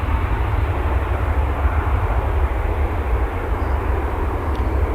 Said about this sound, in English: It's coming in from Tulsa in A321 American Flight 2926.